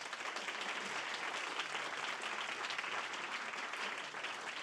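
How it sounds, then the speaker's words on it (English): Sustained applause from an audience at a design club meetup, honouring the evening's speakers: a steady, dense roll of many hands clapping, slightly distant and even in level throughout. "Another round of applause for our lovely speakers."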